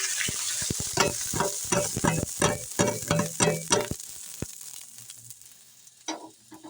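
Chicken pieces tipped into a pan of pre-fried masala for a creamy white chicken korma, sizzling loudly while a spoon scrapes and stirs in a quick, irregular rhythm, then the frying settles into a softer hiss.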